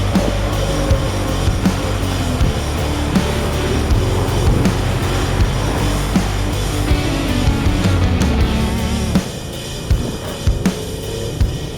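A Land Rover LR3 towing a trailer on highway pavement, with continuous loud road and engine roar and tire hum holding steady, easing slightly near the end.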